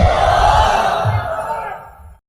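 A crowd at an Islamic sermon roars a loud, unified takbir response, a sustained massed shout that swells together and fades out after about two seconds.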